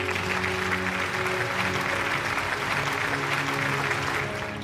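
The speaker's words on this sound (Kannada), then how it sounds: "ಬಲಿ ಜೋರಾದ ಚಪ್ಪಾಳೆ" An audience at the Chittara Star Awards 2024 ceremony breaks into loud, sustained applause as guests are welcomed onto the stage, a steady full roar of clapping that eases off slightly at the end.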